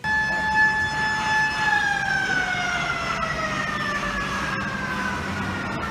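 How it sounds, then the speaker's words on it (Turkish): A fire engine siren wails with a slowly falling tone, loud and sustained over a rumbling engine, no talking. "İşte itfaiye bu şekilde ses çıkarır."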